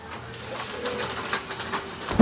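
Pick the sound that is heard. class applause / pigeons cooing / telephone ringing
pigeons cooing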